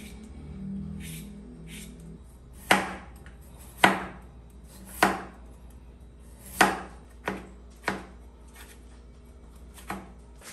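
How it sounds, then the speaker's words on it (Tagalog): Small potato pieces being chopped on a board: about eight sharp knife strikes spaced irregularly over a faint background, with soft rustling before the first cut. "So hiniwa na natin ito na maliliit."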